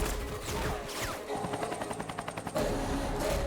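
Film gunfire from the action movie JAAT: a rapid, even burst of machine-gun shots rattles out over a dense, rumbling soundtrack, followed by heavier crashing impacts.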